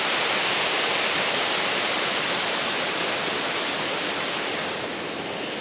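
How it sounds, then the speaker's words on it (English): Cataract Falls cascades down a drop of roughly 25 to 30 feet, a loud, continuous broadband roar of rushing water close by, steady throughout with no voices. "So here's one of those cascades that comes down"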